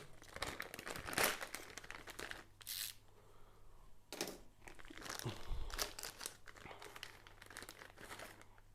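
A Seachem Purigen filter media bag being opened beside an aquarium external filter, with intermittent close crinkling and crumpling of plastic packaging in short bursts, a faint voice now and then.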